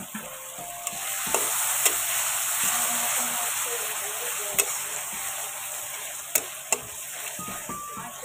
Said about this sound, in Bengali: এখন এর মধ্যে একটু জল অ্যাড করে মশলাটা ভালোভাবে কষিয়ে নেব।